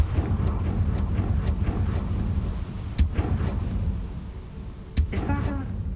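A fiery Confringo spell blast goes off in Hogwarts Legacy, a sharp burst among repeated booming impacts over a rumbling game soundscape, with character dialogue over it.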